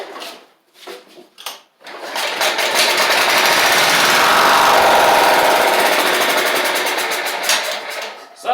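Toro Proline walk-behind mower engine running on starting fluid with a clogged carburetor, a few sputtering catches, then a loud steady close roar that holds several seconds before faltering.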